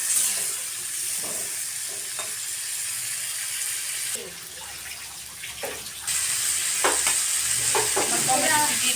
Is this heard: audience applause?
no